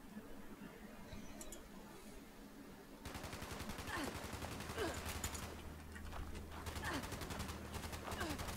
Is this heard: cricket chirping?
no